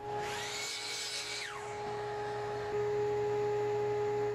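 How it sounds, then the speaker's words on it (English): A power saw trims wood, giving a high whining cut that drops away after about a second and a half, leaving a steady motor hum with electrical tones running underneath. "I use the table saw and miter saw to trim off the extra hold down material and bring it down to final dimensions."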